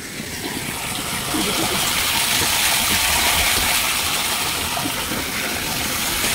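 Steady rushing water pours into a tank, a continuous broadband gush that stays constant and fairly loud throughout, with no voices.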